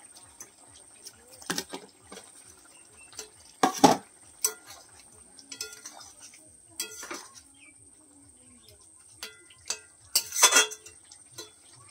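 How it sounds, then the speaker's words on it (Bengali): Fried pomfret pieces added to a bitter gourd and potato curry, with scattered clinks and scrapes of a utensil against the pot, a few sharper knocks standing out over a quiet, steady hum. "আমি এই যে উচ্ছে আলুর মধ্যে এই যে রূপচাঁদ মাছ ভেজে নিয়েছিলাম, ওটা আমি দিয়ে দেবো"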